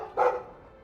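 A dog in the video game Dragon Age 2 gives one short, close bark that quickly fades, heard alone.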